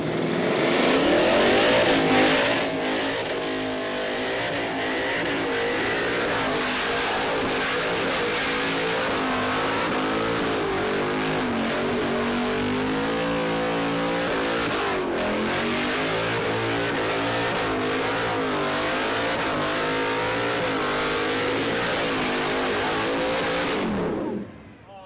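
A Mustang race car does a burnout at Stafford Speedway, its engine screaming at sustained high revs, loud and continuous for about 24 seconds before cutting off abruptly.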